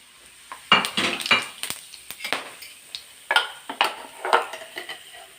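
Green cardamom, cinnamon, cloves, black peppercorns and cumin seeds crackle and sizzle in hot oil in a pan for an egg curry, with a metal spoon scraping and clinking in irregular bursts, close and fairly loud, no talking.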